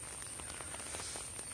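Faint, steady rain falls outside a buffalo shed on a Kerala farm, a soft continuous patter with no voices.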